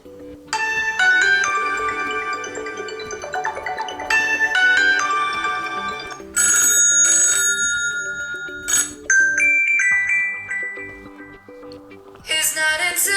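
A ringtone plays from a Huawei Y5P phone: a loud, bright melody of chiming, bell-like synth notes that runs continuously and shifts phrase several times, with a sparkling flourish near the end.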